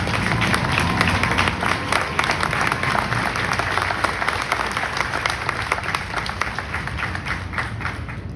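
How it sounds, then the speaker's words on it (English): Audience applause at an Air Force basic training graduation ceremony, a dense steady wash of many hands clapping that holds loud and continuous throughout, with no voices rising above it. "How about a big round of applause for our families?"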